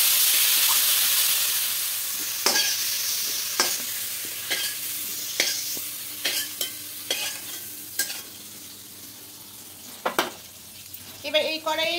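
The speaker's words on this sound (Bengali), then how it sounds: "চিংড়ি মাছ বেশি ভাজলে হবে না, এবার একটু নাড়াচাড়া করে ভেজে নেব।" Shrimp frying in hot oil in a pan, with a steady close sizzle and hiss running throughout and repeated sharp scrapes and clatters as a utensil stirs them, coming in irregular bursts.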